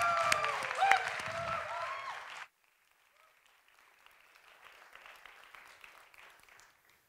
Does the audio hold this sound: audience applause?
yes